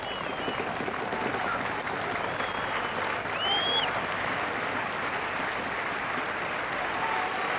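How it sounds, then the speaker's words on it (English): A crowd applauds at the Leicester track after a gold-medal, world-championship cycling ride, sustained even clapping heard from a distance with a faint murmur mixed in. "Acknowledging the applause of the crowd"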